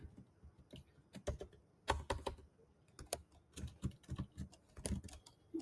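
Rapid, uneven clicking of keys on a computer keyboard while Ruby code is typed, close and fairly quiet, in short bursts with brief pauses and no talk.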